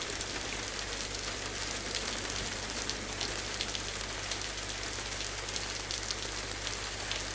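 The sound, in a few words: rain in the video game DayZ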